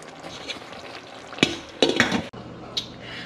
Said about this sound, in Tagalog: Let's simmer muna natin for another 5 to 10 minutes kasi ang tigas pa ng ano.